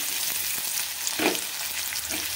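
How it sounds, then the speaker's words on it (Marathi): Chopped onions with cumin and mustard seeds fry in a pan, giving a steady hissing sizzle with a few soft stirring scrapes, close and fairly quiet, with no talking. "छान तळून घ्यायचं।"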